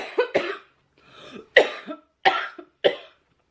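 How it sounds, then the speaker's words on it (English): A person coughs close to the microphone, a series of about five sharp, dry bursts with short pauses between them. "Gotta raise that pinky, gotta cough fancy."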